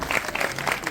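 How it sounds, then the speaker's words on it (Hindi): A burst of loud, close applause for the speakers on stage at Jagran Film Festival 2025 in AD Mall, with a full crowd clapping throughout the short moment. "एक जोरदार ताली इनके लिए। एक बार जोरदार तालियां होनी चाहिए हमारे दोनों"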